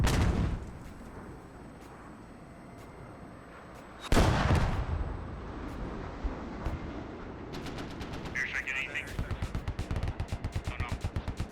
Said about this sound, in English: Airstrike, not sure where it landed.